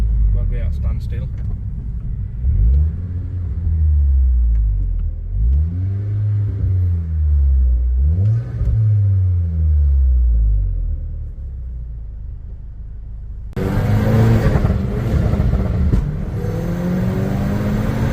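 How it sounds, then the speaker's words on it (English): A stage 2 tuned Seat Leon K1 revved at standstill, its engine climbing and falling through several loud, close revs in a row, followed by a rougher, broader roar toward the end. "I'll give you a few revs while we're at standstill."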